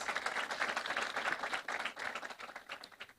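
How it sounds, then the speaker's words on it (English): An audience applauds at a medical school White Coat Ceremony for the MBBS-MGHD class, a faint but continuous spatter of many hands clapping from a distance, with no voices over it. "Let's give her a round of applause."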